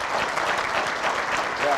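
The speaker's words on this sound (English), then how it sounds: "Give yourself a round of applause." Brief burst of applause from an audience at a summit on children's welfare, dense clapping from a crowd, short and steady.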